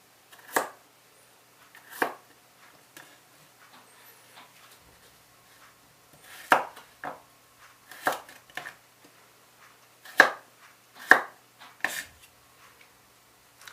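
Knife trimming the corners off vegetable cubes on a cutting board for soup, sparse irregular soft chops and scrapes spread out, quiet and close, no talk.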